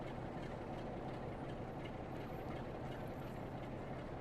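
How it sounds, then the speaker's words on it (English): A train arrives at a station in the Just Trains West Coast Main Line Crewe–Preston route game, heard as a steady, dense rumble with no distinct events. "That's our train coming in now, I think."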